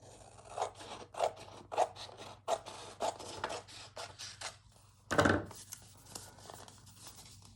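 Repeated crisp snips of scissors cutting through paper, a steady series of short strokes close by with one louder rasping cut near the end.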